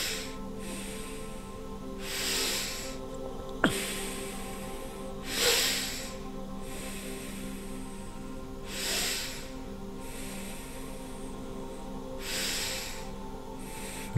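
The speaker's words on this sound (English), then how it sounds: "Now do several breaths to source without swaha" Slow, deep breaths during a guided breathwork meditation, a steady cycle of airy inhales and exhales repeating about every three seconds over a sustained humming background drone.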